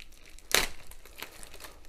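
A short, sharp rip of plastic wrapping followed by softer crinkling and rustling as the packaging is handled nearby.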